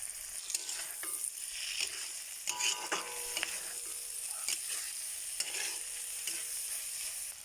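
Fish pieces dropped into onion masala in a hot pan sizzle and fry steadily nearby, with occasional scraping stirs and light clinks over the constant hiss.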